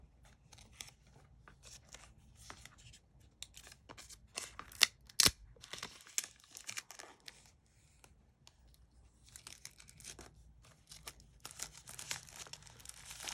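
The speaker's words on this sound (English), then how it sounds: "Remove the plastic." Plastic wrap crinkling and tearing as it is stripped from an Apple Pencil 2nd generation box, irregular close crackles and rustles with quiet gaps.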